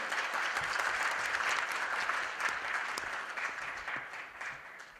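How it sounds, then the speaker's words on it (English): A conference audience gives a warm round of applause to welcome a speaker, many hands clapping steadily and densely, easing off slightly toward the end. "please welcome Pamela Constable in a big round of applause"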